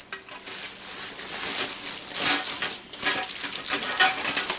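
Rustling and crinkling of packaging and the scrape of a divider being pulled from a Brooklyn Brownie copper baking pan, a continuous close hiss of handling noise with small knocks.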